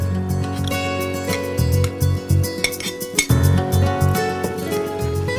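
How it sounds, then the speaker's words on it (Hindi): Paneer cubes go into a pan of softened capsicum for paneer tawa masala, and a metal utensil clinks and scrapes repeatedly against the pan, loud and close, with no talking. "अब हम इसमें डाल देते हैं ये पनीर"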